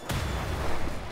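A grenade blows up in the shooter Wolfenstein: The New Order, a sharp loud blast followed by a long rumbling low tail that carries on to the end.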